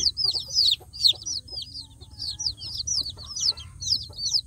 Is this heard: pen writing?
no